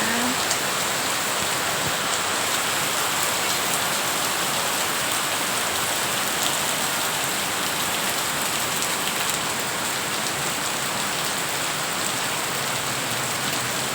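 A constant downpour roars evenly, thick rain splashing hard on surfaces throughout, loud and close with no other sounds standing out.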